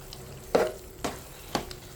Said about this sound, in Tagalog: i-mix na natin ng maayos